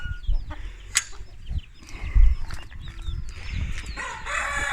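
Chickens cluck and squawk nearby in scattered bursts inside a coop in the morning, with a rooster-like call mixed in and some handling noise in the background.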